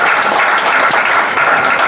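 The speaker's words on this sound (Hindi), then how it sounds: "अब तो पहले से ही ताली बजा रहे हैं" A mushaira audience in Delhi applauds, a dense, continuous roar of many hands clapping that stays loud and even throughout, with no voices standing out.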